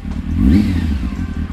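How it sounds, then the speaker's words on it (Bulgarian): A Honda Hornet motorcycle engine, recently repaired, revs briefly up and back down near the listener, a loud throaty rumble with a quick throttle blip over a steady idle. "мотора работи много по-добре от преди. Газта му е много по-отзивчива"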